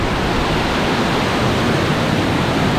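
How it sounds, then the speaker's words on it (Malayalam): Karakkund waterfall in Kerala thunders with great force, a loud, steady, close roar of rushing water that fills the whole moment without a break. "ഭയങ്കര ശക്തിയിലാണ് വെള്ളം വരുന്നേ"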